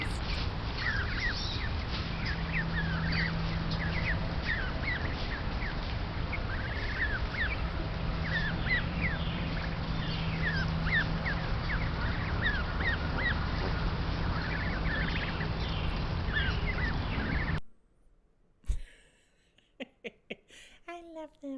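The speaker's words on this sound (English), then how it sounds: "Time for the baby geese." Baby geese honk and peep in a steady, busy chorus of chirpy calls, with a low hum beneath, before the sound cuts off near the end, leaving faint handling noise.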